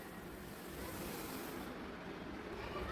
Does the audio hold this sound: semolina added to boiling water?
yes